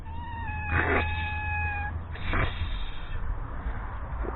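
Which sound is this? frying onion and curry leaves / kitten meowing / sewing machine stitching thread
kitten meowing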